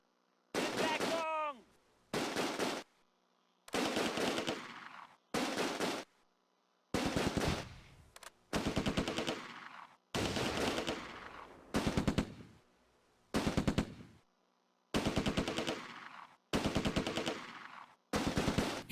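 Close Combat video game battle: repeated bursts of machine gun and rifle fire come in short, evenly spaced volleys separated by silence, crisp and fairly loud, with no voices.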